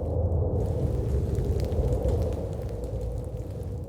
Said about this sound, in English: That's the sound of a chilly, snowy morning in Minnesota, where young Khadijah lives.